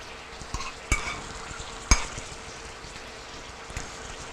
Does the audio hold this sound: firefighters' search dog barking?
no